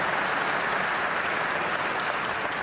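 A crowd at a professional 9-ball pool championship final applauds in a steady, dense wash of clapping that holds at full strength throughout.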